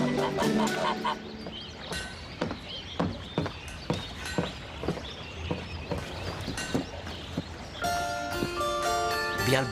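Geese honk repeatedly nearby in a farmyard, loud overlapping calls throughout, with people talking in the background.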